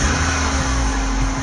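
A 2009 Nissan Versa 1.8 engine revs as the throttle is pressed, giving a loud, steady, close-up engine roar with a constant hum underneath.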